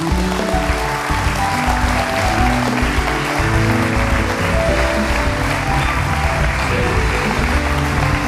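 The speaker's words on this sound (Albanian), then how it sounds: "Kështu që me një duartrokitje të publikut të Tiranës vjen Visar Arifaj." A studio audience at a Tirana television show claps steadily for about eight seconds: dense, loud, continuous applause with no pauses.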